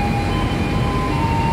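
Inside the rearmost economy carriage of the Sancaka Utara train running between Surabaya and Yogyakarta, a dense low rumble rolls on without a break under a faint steady hum, with no voices.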